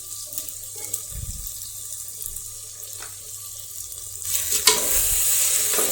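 About 1.5 litres of water pours into a pot of washed rice seasoned with turmeric, a steady splashing rush that swells loudly in the second half over quieter kitchen clatter.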